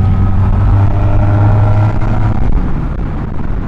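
A Honda Rebel 250 motorcycle engine drones loud and close, with a steady mechanical hum that drops and eases partway through as the rider shifts gears, then continues a little softer.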